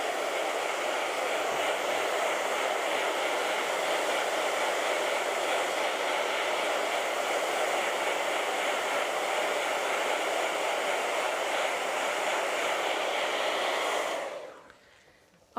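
A hair dryer blows steadily and loudly at close range while drying an acrylic painting, a continuous even whoosh lasting about fourteen seconds before it switches off.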